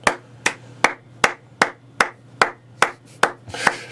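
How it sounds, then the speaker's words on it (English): One person clapping alone at a tabletop board game session, about ten sharp, evenly spaced claps roughly every half second, close and loud over a faint low hum. "Great job applauding for yourself"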